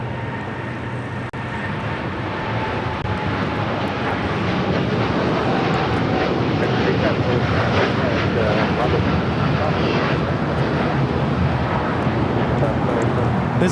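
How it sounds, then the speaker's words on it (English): A United Airlines Boeing 787-10 Dreamliner takes off at LAX, a broad, steady jet roar swelling gradually and holding strong from a distance over outdoor ambience. "This takeoff is United Airlines Flight 39, taking off to Tokyo Haneda on a 787-10 Dreamliner."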